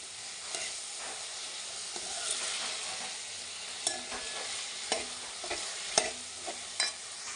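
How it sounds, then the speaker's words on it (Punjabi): Tomatoes and onions cook in a pan, a soft steady sizzle under scattered scrapes and clinks as a spoon stirs them, fairly quiet and close with no voices. "ਉਨੀ ਦੇਰ ਤੱਕ ਆਪਾਂ ਚਮਚਾ ਫੇਰ ਫੇਰ ਕੇ ਇਹਨਾਂ ਨੂੰ ਪਕਾਉਂਦੇ ਰਹਾਂਗੇ"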